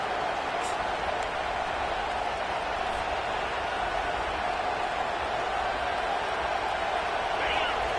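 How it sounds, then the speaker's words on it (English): Steady roar of a large crowd filling a college football stadium at a Colorado Buffs versus Ole Miss game, a continuous dense wash of voices and cheering held at an even level throughout. "This crowd bringing the energy and noise early."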